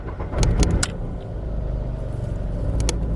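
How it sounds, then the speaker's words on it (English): A car engine with a camshaft position sensor fault cranks and catches roughly, a low rumbling idle with a few sharp metallic clicks early on, settling into a steady hum. "When I start my car,"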